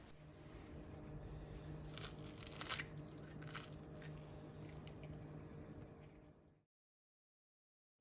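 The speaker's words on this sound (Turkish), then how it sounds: "Şimdi ne kadar çıtır olduğunu dinleyebilirsiniz." Crunchy walnut-filled taş kadayıf dessert being bitten close up, a steady crackling crunch with a few louder crisp snaps, heard alone before the sound cuts to silence.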